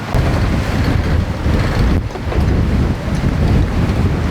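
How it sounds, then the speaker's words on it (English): Strong wind blows at sea aboard a sailboat on an ocean crossing, a loud, continuous roar with buffeting gusts against the microphone and no voices. "the wind started blowing up again"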